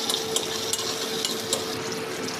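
Tomatoes sizzle in hot mustard oil with black cumin and green chili in a wok, a steady close frying hiss broken by light scraping taps of a spatula being stirred.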